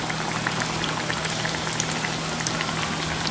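Aloo pies fry in hot oil in a pot, giving a steady, dense sizzle and bubbling crackle that holds evenly throughout, close and fairly loud with no talking.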